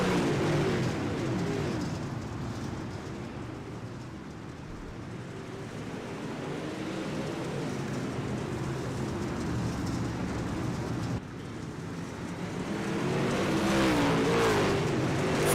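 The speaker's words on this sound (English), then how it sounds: "Let's turn the music down and turn the engines up here." Race car engines roaring together at the green flag of a dirt-track heat race at Fairbury's Mid-State Showdown, a loud sustained drone of many cars that swells and shifts as the field passes, with no talk.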